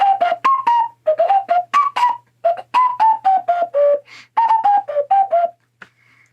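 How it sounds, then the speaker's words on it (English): Hand whistle blown through cupped hands, a long run of clear, warbling hooted notes in quick bursts with brief gaps, loud and close, alone without talk. "they asked me to do the hand whistle"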